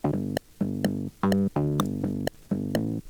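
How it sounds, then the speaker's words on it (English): A slap-bass synth preset in Bitwig, roughened with Decapitator and kilohertz distortion, plays a funky riff of short, punchy plucked notes in a bouncing rhythm, close and clear with no other sound. "Our second layer is kind of like a slap bass."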